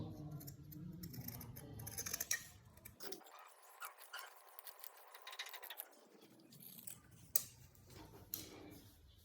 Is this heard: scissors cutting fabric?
yes